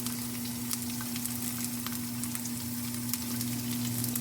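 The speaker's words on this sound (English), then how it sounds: "Some onions in a pan, ladies and gentlemen. Sizzling around." Onions sizzle steadily in a frying pan, a constant crackling hiss with a low hum underneath and no talking.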